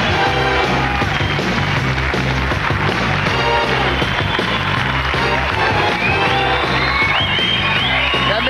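An audience welcoming Michel Blanc cheers and whoops continuously, a dense loud crowd roar with shouts and whistles rising toward the end.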